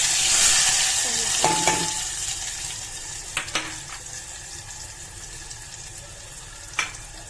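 Onions sizzle in hot oil in a pan, a steady close fry with a few sharp scrapes and knocks of stirring, with no voices.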